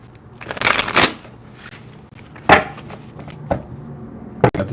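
Close tarot cards being shuffled by hand give loud riffling bursts, a long one near the start and shorter ones later, with soft handling sounds in between.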